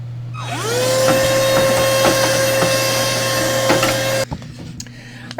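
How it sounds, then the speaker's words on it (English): A vacuum nozzle sucks lint out of an open serger sewing machine, a loud steady whining motor with a rising then level pitch, running close for several seconds before cutting off abruptly, followed by faint clicks. "I'm just going to vacuum everything else I can see"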